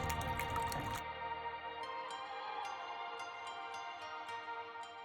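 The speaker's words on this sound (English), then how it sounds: "So we're gonna go ahead and add our whole milk." Whole milk pours into a bread pudding mixture of cracked eggs. A brief loud splashing gush gives way to a quieter, scattered series of drips and wet trickles.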